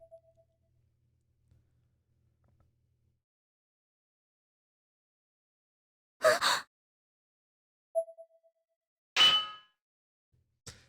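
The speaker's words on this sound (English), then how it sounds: "something fell out of my hand onto the floor with a substantial clang" Two loud metallic clangs ring out in Corpse Party: Blood Drive as an object drops onto the floor, separated by a short soft ding, with near silence before.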